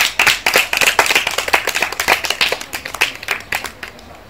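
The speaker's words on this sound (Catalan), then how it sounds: "Un aplaudiment." A room of schoolchildren claps for a sixth-grade theatre workshop group at a Catalan school anniversary event, with distinct, fairly close individual claps merging into uneven, lively applause that tapers slightly over about four seconds.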